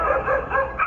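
Small dogs give a short burst of yappy, high-pitched barks and whimpers, brief and moderately close, lasting under a second.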